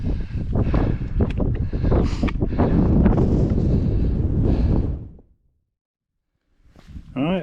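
Strong wind buffets the microphone on the exposed summit of Murton Pike, a loud, steady roar for about five seconds, then a brief lull before another gust rises at the end.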